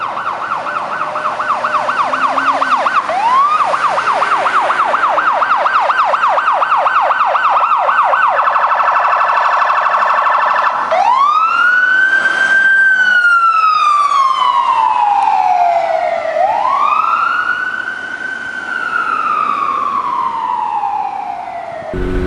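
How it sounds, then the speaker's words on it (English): A loud Federal Signal Omega 90 electronic siren cycles through a rapid yelping warble, then slow rising and falling wails, sweeping up and down with no talk over it. "it's a Federal Signal Omega 90, and it's just my favorite siren of existence."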